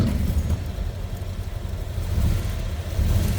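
A 1931 Pontiac 200 cubic inch L-head inline six rumbles at a steady low idle indoors, a soft continuous engine drone with no distinct crank or catch heard.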